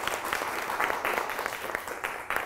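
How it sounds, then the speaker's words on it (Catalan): A small crowd applauds, a short burst of brisk, fairly close clapping with individual claps standing out. "Un fort aplaudiment per elles."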